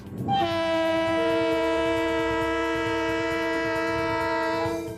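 A freight train's horn blasts long and loud, a steady sustained chord held for several seconds over the low rumble of the passing train.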